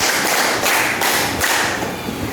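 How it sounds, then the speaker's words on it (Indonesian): A group of adults in a classroom clapping a counted set of five, a steady run of sharp hand claps spaced evenly, roomy and moderately loud. "tepuk 5"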